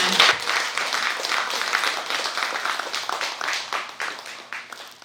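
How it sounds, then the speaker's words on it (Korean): Audience at a Buddhist book-publication dharma service applauds the monk, a dense wash of clapping that starts loud and tapers slightly over several seconds, with no speech. "여러분 스님께 큰 박수 부탁드립니다."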